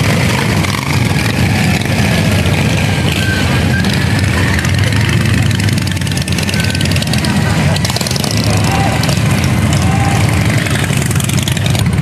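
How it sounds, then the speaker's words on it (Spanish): Crowd of motorcycle engines at the Pereira bike week rally, a steady loud rumbling and idling drone that runs the whole time beneath busy talk and outdoor bustle. "ustedes escuchan el sonido de los motores tan espectacular"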